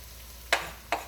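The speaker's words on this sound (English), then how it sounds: "So I'm adding the garlic right now." Garlic hitting a hot pan while cooking sari-sari vegetables: two short, bright sizzling hisses about half a second apart, close and clear over a quiet low hum, with no talking.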